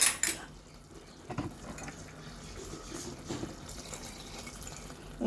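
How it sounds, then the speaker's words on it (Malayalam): Hot water poured into a pan of beef varattiyathu as it cooks with tomatoes: quiet, close splashing and trickling with a few small clinks of the pan, fading in and out over a few seconds. "ഈ ചൂടുള്ള വെള്ളം ഞാൻ ഒഴിച്ച് കൊടുത്തിട്ടുള്ളത്."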